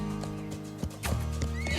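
A horse whinnies while its hooves clip-clop, a short, close stretch with no talk.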